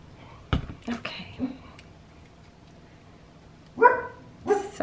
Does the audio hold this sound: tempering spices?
no